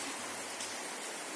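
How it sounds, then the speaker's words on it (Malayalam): Heavy rain pours down as a steady, even hiss of countless drops, heard faintly from a distance with no voices. "അപ്പോൾ ദേ കണ്ട മഴ നന്നായിട്ട് പെയ്യുന്നുണ്ട്"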